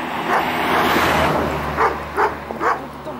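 A large guard dog, tied up near a village on Tenerife in the Canary Islands, barks in the evening. After a stretch of background noise, three separate barks sound from a moderate distance.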